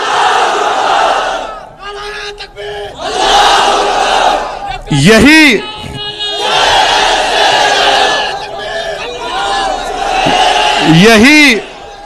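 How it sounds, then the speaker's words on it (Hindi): A large crowd at a protest rally against the CAA chants the Nara-e-Takbir slogan in loud, massed bursts of voices. The chant comes in repeated waves, with a leader's calls rising between the crowd's roared responses. "तो जोर से नारा लगाइए, नारे तकबीर।"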